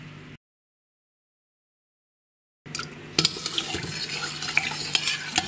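After a short silence, a spoon stirs pickling brine for cucumbers in a pot, with steady swishing and light clinks against the sides, close up.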